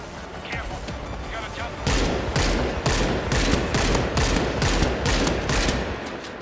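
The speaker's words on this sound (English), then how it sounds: "Stationary machine gun in position." A stationary machine gun fires in the co-op shooter World War Z, rapid loud continuous bursts that hammer on densely for several seconds, with game voices shouting over the gunfire.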